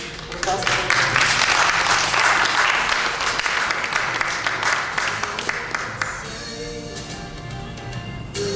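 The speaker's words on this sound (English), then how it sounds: "Get a round of applause for her" A crowd at a memorial gathering applauds loudly for several seconds, the clapping thinning out as a voice begins speaking over a lingering murmur.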